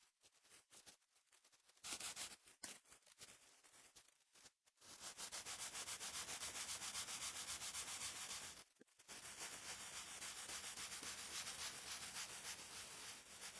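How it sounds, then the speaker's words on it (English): Flat sanding with 320 grit sandpaper, close and steady rubbing strokes, first in short broken passes and then in long continuous stretches with one brief pause. "We're gonna go to 320. Do the flat sand."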